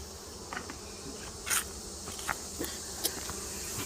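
Honey bees at a hive bring in fall nectar, giving a steady, close insect buzz with soft scattered taps and brief louder bursts as bees move near.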